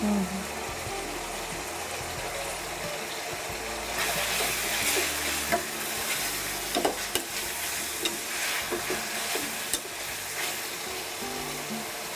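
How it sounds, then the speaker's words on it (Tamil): Chicken sautés in a pan with a soft hiss that swells louder partway through, joined by intermittent spatula scrapes and clinks. "சிக்கன் நல்லா வதங்கட்டும்"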